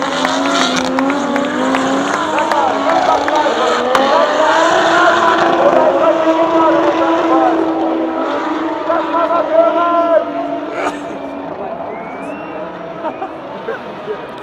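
Race cars drift at night during qualifying for the 24-hour race at the Nürburgring, heard from the Adenauer Forst section. Engines wail and rev continuously with squealing tires, mid-distance and loud, while spectators talk over the noise.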